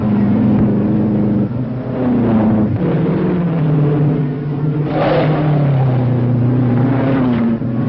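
Race cars roar off at the green flag, their engines droning loudly and rising and falling in pitch as the pack pulls away, with no talk over them.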